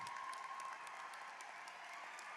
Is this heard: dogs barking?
no